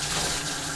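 Water gushes strongly from a small-nozzle hose to rinse a Fluval 307 canister filter, giving a loud, steady broadband rush that runs unbroken and close up.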